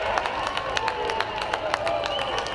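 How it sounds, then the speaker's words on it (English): A crowd at a minor league baseball game in Hartford, home of the Yard Goats, applauds after a two-run home run, with dense scattered clapping heard from a distance under a commentator's ongoing talk. "the applause that you may hear down below"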